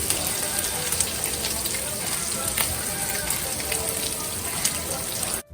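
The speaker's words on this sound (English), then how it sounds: "we're gonna throw our chopped bacon onto a pan and cook till about almost crispy" Chopped bacon frying in a skillet for carbonara, a steady dense sizzle and crackle throughout with scattered sharper pops, close and fairly loud, ending abruptly.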